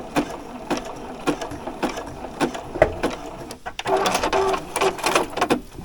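A sewing machine zigzag-stitches across fabric in a string of quick rhythmic mechanical bursts, then runs faster and denser near the end, close and clear with no speech.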